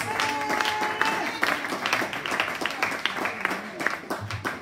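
A church congregation claps and cheers together, a dense, steady burst of applause filling the room with a few voices mixed in.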